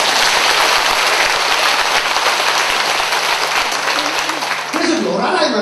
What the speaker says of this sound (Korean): 박수 한번 치.